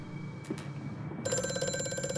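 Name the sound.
telephone ringing in video game Amnesia: A Machine for Pigs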